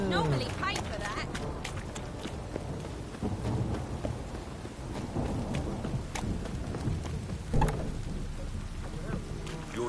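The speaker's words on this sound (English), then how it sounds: "Witches have conjured rain again." Rain in The Witcher 3 video game, steady patter under game voices speaking, with a sharp splash or knock now and then and a low background rumble.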